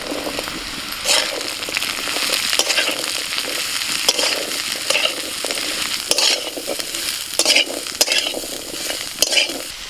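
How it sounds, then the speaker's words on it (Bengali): Potatoes and leafy-green stalks fry with onion in a pan, a steady close sizzle broken by repeated scraping and clattering stirs of a spatula, with no voices over it. "পেঁয়াজটা একটু ভেজে নিয়ে এই আনাজগুলো দিয়ে দিচ্ছি।"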